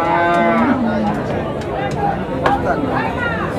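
A Friesian cow at the Aronkola cattle market in Pabna gives a long, loud, close moo, and people talk and murmur in the background throughout.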